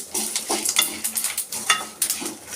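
Flax seeds and garlic fry in a pan with a lively crackling sizzle, punctuated by quick rhythmic scrapes and stirring strokes close by, with no voices.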